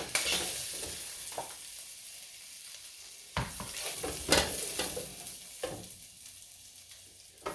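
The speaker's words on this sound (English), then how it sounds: "now I'm just going to place the shrimps in the pan, and I'm going to cook them for 2 minutes per side" Shrimp searing in a hot pan, an uneven sizzle broken by several sharp clatters and knocks as pieces are set down and moved, close by, with no voices.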